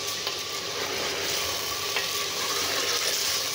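Chicken nihari sizzles in hot ghee in a pan, giving a close, steady, crackling fry with faint pops and no voices.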